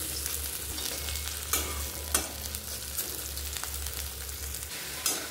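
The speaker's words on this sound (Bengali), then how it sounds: "চলো এবার একটু ক্রাঞ্চি করে ভেজে নিই।" Taro (kochu) frying in a pan until crunchy gives a steady, even sizzle with a few sharp clicks and stirring scrapes, no voices.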